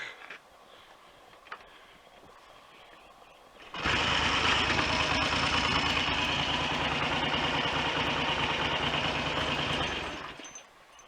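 A Triumph Trident motorcycle fires up and settles into a steady, fairly loud idle after its carburettor pilot passage was cleared, following a quiet stretch of faint shop noise, then cuts off near the end.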